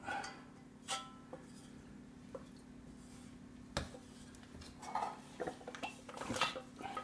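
Wooden spoon scraping and tapping against a saucepan while stirring custard, with quiet irregular knocks and soft scrapes over a low steady hum, growing busier toward the end.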